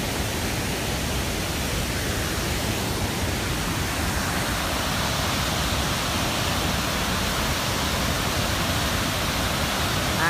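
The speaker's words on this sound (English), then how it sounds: "like the ground rumbling here, the force of the water coming out" Immense volume of typhoon floodwater rushing out in northern Taiwan after Typhoon Dujuan, a loud, steady, broadband roar like a waterfall, continuous and unbroken throughout with a deep rumbling low end.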